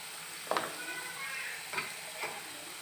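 Cut potatoes with turmeric and salt fry in a pan, a soft steady sizzle close by with a few brief scrapes of stirring.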